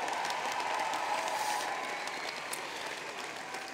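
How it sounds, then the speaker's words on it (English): Crowd applause at the unveiling of the Emmeline Pankhurst statue in Manchester, a steady outdoor clatter of many hands, moderately distant and gradually fading slightly, with no speech over it. "let's give them a round of applause as well."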